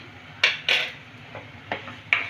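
Spices being stirred in a cooking pan for a dry potato and pointed gourd sabzi, with about five sharp metallic clinks of a spoon against the pan, close and fairly loud over a low background.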